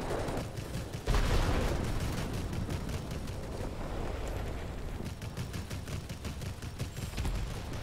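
Bombs exploding in World of Warplanes, dropped from an NC 1070 aircraft, a dense rumbling barrage of blasts with a loud burst near the start, then continuous crackling detonations over a steady engine drone.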